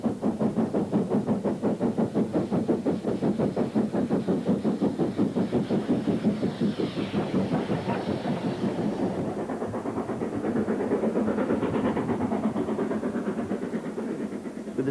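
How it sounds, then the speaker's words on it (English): A steam locomotive with three pairs of 6-foot 2-inch driving wheels labours up a 1 in 49 grade hauling nine fully laden coaches, its exhaust beating in a fast, steady rhythm over a constant rumble. "All 3 pairs of 6-foot 2-inch driving wheels gripping the rails, moving a heavy train of 9 fully laden coaches."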